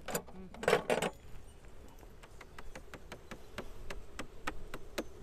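Honey bees buzz close by in a hive in winter configuration, then a series of sharp, evenly spaced ticks or taps runs steadily through a low background hum.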